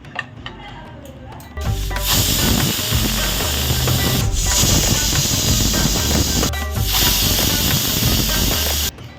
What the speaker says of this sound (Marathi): कुकरला झाकण लावते आणि आपण तीन शिट्या काढूया